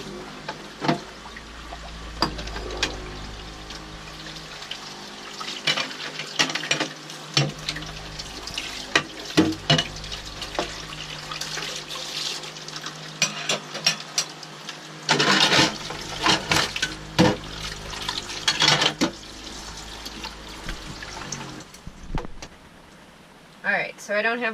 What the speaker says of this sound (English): Maddie's going to be doing the dishes with rainwater